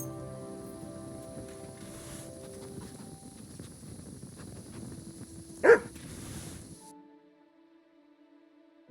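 A single sharp dog bark from Mutt, the hound in the medieval game Kingdom Come Deliverance II, rises briefly over steady outdoor ambience and soft game music.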